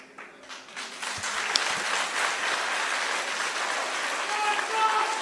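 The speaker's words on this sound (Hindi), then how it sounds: "हो गया, एक बार ताली बजाई, खत्म।" A crowd at a political meeting of Congress workers in Srinagar breaks into sustained applause, building from a few claps into a dense, steady wash of clapping that carries to the end, with some voices mixed in.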